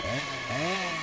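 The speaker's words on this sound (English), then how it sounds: "the sound effects for the chainsaw" A chainsaw sound effect from the fighting game Terrordrome revs in two rising, wavering sweeps, buzzy and upfront, with nobody talking during the brief burst.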